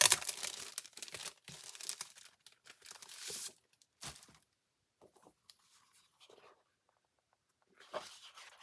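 A pack of Snowflake Magic specialty paper from a holiday mini catalog is handled up close, with loud bursts of crinkling and rustling that stop and start, then fall to near silence with a few faint taps before one last crinkle.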